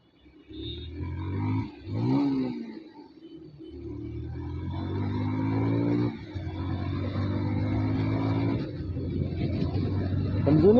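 Bajaj Pulsar 150 motorcycle being ridden, its engine close and loud, with stepped revving rising in pitch through the gears and a steady throb between shifts.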